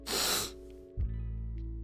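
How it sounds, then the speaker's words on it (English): Close nasal sniffling from a person, a broad breathy snort lasting about half a second, then a quieter tonal hum continuing after. "pardon the sniffles"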